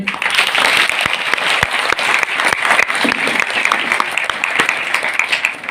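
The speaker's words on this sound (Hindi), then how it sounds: "एक बार बाबा जी के लिए ताली।" A congregation at an annual satsang at Shri Gopal Krishna temple in Jagraon claps for Baba ji, loud sustained applause from many people with sharp individual claps poking through.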